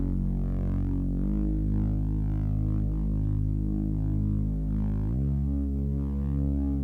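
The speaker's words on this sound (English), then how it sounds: "And then the best part of this is the bass drop." A big, thick synth bass with some stereo width drops in, holding deep sustained notes that step lower twice, with a throbbing, pulsing texture filling the low end.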